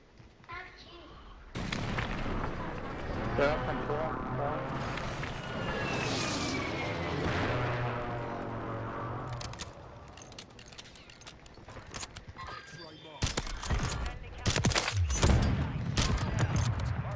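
Rapid bursts of gunfire from a prison area in a video game, dense and loud through much of the clip, with sharp louder shots near the end and players talking over the action.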